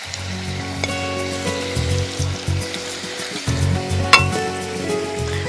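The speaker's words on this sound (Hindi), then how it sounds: "आप देखिए मेरे कुछ कोफ्ते तैयार हो गए हैं, तो मैं इन्हें फ्राई करने के लिए डाल रही हूँ।" Kofta balls dropped into hot oil fry with a steady sizzle, broken by a few soft knocks and thumps of a utensil in the pan. The sizzle briefly rises near the end.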